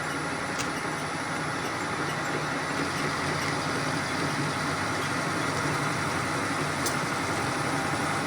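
A machine cutting a keyway slot in a steel bushing for a Farmall H tractor's steering arm produces a steady, loud, unbroken mechanical drone, with faint high ticks over the constant motor hum.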